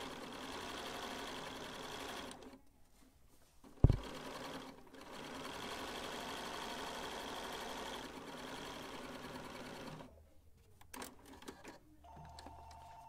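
A sewing machine hems a pair of pants with an edge foot, running in close, steady bursts of rapid mechanical stitching with short pauses and one sharp clack between runs.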